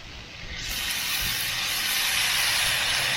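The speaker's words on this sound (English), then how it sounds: "we're going to add it to this side to help deglaze the griddle" Soy sauce poured onto a hot griddle for chicken fried rice hisses sharply, swelling within a second into a loud, sustained steamy sizzle as it deglazes the surface.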